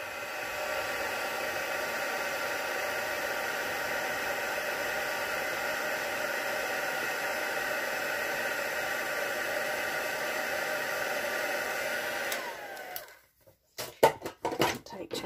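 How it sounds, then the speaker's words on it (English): A heat tool blows steadily and loudly for heat embossing a stamped card, a continuous airy whoosh that runs about twelve seconds, then cuts off into a few brief clattering knocks as it is set down. "I'll just heat emboss this."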